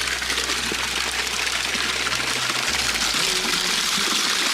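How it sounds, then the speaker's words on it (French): Hot spring water in the Queyras high mountains flowing steadily, a dense broad gushing rush close by, constant and unbroken with no voices. "Source d'eau chaude."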